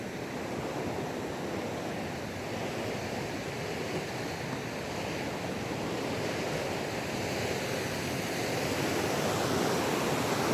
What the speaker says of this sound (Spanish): El río muy bonito.